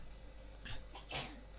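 Two short sneezes in a detective adventure game, Face Noir, the second louder than the first, over a steady low background hum.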